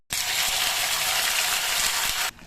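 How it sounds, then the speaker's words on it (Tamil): Mustard seeds crackle and spit in hot sesame oil in a clay pot, a dense, steady sizzling burst that starts abruptly, holds loud for about two seconds and then cuts off. "கடுகு போட்டு தாளித்து எடுத்துக்கலாம்."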